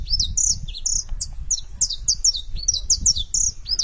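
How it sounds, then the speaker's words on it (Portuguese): Saffron finch singing nearby, a bright run of quick repeated chirps and whistled notes in a lively, uneven rhythm, over a low rumble of background noise. "Dono da vocalização é o canário da terra, uma ave que chama a atenção pela beleza e pelo canto melódico."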